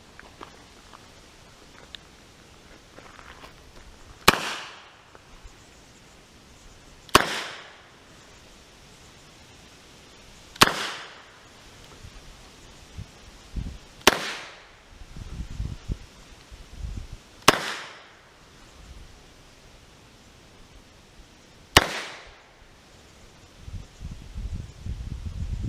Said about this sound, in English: faster shooting now, moving from target to target, and we'll see how she does